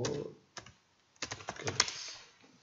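Someone types on a computer keyboard in a quiet room, with a short burst of clicks, a pause, then a quicker run of close, crisp keystrokes ending in a firmer tap.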